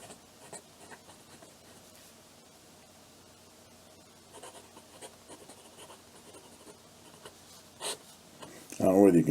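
A medium-nib fountain pen scratches across paper in faint, dry strokes, quiet and close, with a louder rustling burst at the very end.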